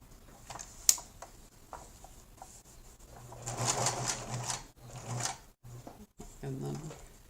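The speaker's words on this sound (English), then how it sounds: "This is a Singer Merit 4528C with a zigzag stitch." A Singer Merit 4528C sewing machine runs a zigzag stitch in a short, rapid mechanical whirring burst after a few light clicks, close by in a quiet room.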